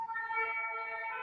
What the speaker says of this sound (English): Is there an ambulance inside your house?